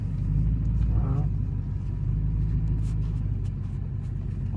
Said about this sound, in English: He's really enjoying pulling that trailer.